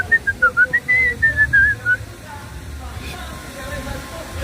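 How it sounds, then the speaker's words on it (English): A person whistles a short tune nearby, the notes rising and falling over about two seconds. Soft background noise continues after the whistling stops. "I'm whistling because I don't want any music to get in here."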